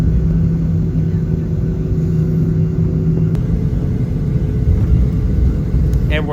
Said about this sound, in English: Today's taxi is very long because we will be departing from the south side of the airport